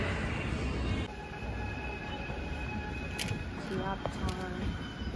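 A subway train runs through a station or tunnel in Gwangju, South Korea, a loud continuous rumble and rattle of wheels on rail with faint squeals, while people chat nearby.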